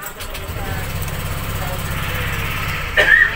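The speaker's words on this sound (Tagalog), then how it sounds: "pwede natin i-start yung ating motor at paandarin natin mga boss kahit mga ilang minuto lang" A motorcycle engine runs steadily at idle after carbon cleaner has been added, with a low, even pulsing throb close by that grows a little louder near the end.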